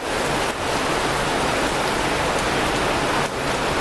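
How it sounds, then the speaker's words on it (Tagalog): A heavy downpour keeps up a steady, loud wash of rain from start to finish, heard alone without speech. "Lakas ng ulan guys."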